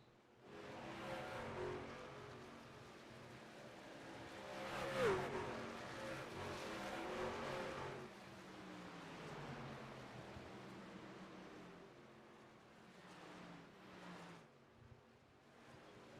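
Racing trucks in a towing truck race series roar past, engines revving and rising in pitch as they accelerate, then fading and returning, heard from a moderate distance with no talk.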